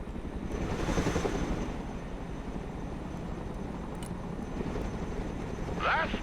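Chinook helicopter in the video game Broken Arrow, a continuous rotor and engine drone that swells slightly near the start and end, with a brief higher mechanical sweep at the close.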